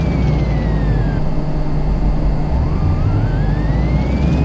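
A video-game car engine running on a dyno in Car Mechanic Simulator 2018, a loud steady drone with a thin whistling tone that falls, fades, then returns and rises, heard alone.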